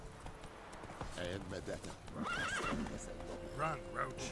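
Roach, the horse in the Witcher 3 video game, neighs in several wavering whinnies over a steady clip-clop of hooves, all moderately loud and close.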